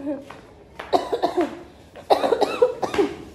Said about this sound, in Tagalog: tayo ay inuubo na